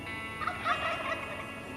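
A wild turkey gobbles in the distance, a short rattling burst standing out against quiet outdoor background in the Northwest woods.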